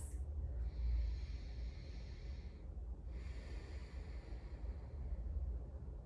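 Slow, deep breaths during a prenatal yoga session, each long inhale and exhale a soft, airy hiss, close and fairly quiet, alone without talk.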